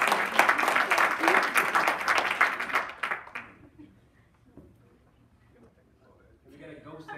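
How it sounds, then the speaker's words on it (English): Audience applause and clapping at a youth talk event, loud and dense for about three seconds before fading into quiet room noise, with a voice starting to speak near the end. "Let's give him a round of applause."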